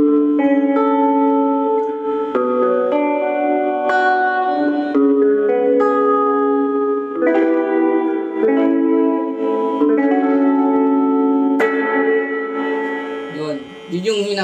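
A guitar played through a Sonicake Levitate reverb pedal rings out in a sequence of notes and chords, each lingering in a spacious reverb tail that carries on after the pedal is switched off.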